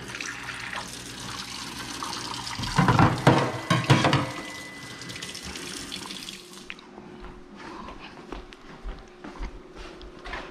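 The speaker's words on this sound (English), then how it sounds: "And we're gonna run cold water like we always do." Cold water runs from a tap into a sink, gushing louder for a moment before settling into a steady stream with faint clinks of dishes.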